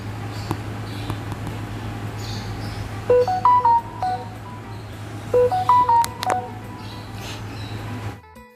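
Telephone keypad tones beep in two quick bursts of several presses each, crisp and distinct over a steady low hum, with no talking.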